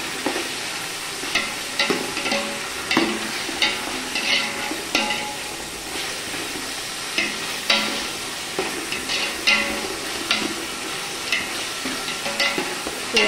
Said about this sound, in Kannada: ಎಲ್ಲ ಕಡೆ ಆ ಶುಂಠಿ ಬೆಳ್ಳುಳ್ಳಿ ಪೇಸ್ಟ್ ಮಿಕ್ಸ್ ಆಗೋ ಥರ ನೋಡ್ಕೊಳ್ಳಿ